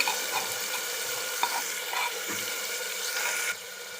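Moong dal khichdi mixture with onion and chopped cowpea greens stirred in a pan, a steady close sizzle and scraping stir that drops slightly quieter near the end.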